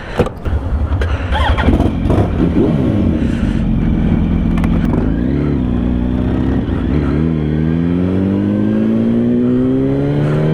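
A 2008 Yamaha R1 1000cc motorcycle starts with a few sharp bursts, then revs up and down in rising and falling sweeps before climbing into a steady, loud, close whine.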